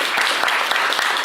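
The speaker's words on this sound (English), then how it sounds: "So really give yourselves a round of applause because you're part of this community." An audience at a tech-conference opening keynote in Los Angeles breaks into applause, a brief, dense wash of many hands clapping at once, with no voices over it.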